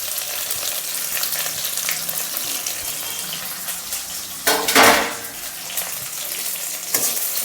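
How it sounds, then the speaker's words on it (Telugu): Chopped onion and green chili frying with mustard seeds and cumin for an Andhra-style amaranth and moong dal curry, a steady close sizzle with stirring clatter and a brief louder burst midway. "కట్ చేసిన ఆనియన్స్ వేస్తున్నాను."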